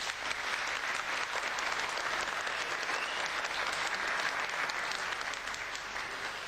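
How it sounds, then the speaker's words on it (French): Sustained, dense audience applause at a community event at the Espace Camille Claudel in Saint-Dizier, steady and loud throughout without pause. "Des applaudissements pour Tatiana."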